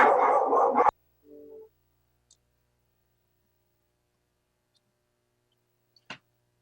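A dog barks in the background of a conference call: one loud burst at the start, then a short faint yelp. Near-silence follows, broken only by a couple of small clicks.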